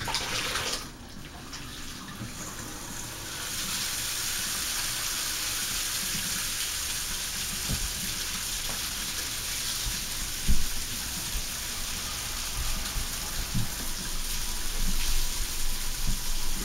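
A shower runs into a bathtub as hand-washed clothes are rinsed under it, making a steady close hiss of spraying water with faint splashes and shifting fabric. There is no talk.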